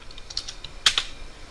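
A handful of quick, light keystrokes on a computer keyboard, close and quiet, with a brief cluster of taps near the end.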